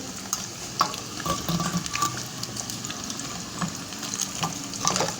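Katori chaat baskets fry in very hot oil, a steady bubbling sizzle with scattered crackles and occasional clinks of a utensil lifting them out, close and continuous with no talking.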